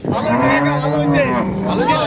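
Cows low loudly at a crowded Bangladeshi cattle market selling animals for Eid al-Adha sacrifice, one long drawn-out moo running through the whole stretch close by, rising and falling, with a busy crowd murmuring underneath.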